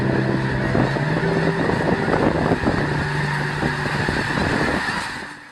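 A large flock of snow geese honks continuously and densely, a loud overlapping chorus of many birds with no talk over it, fading slightly at the end.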